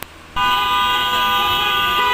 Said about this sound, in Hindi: बहुत ज़्यादा आवाज़ आ रही है गाड़ियों की हॉर्न की।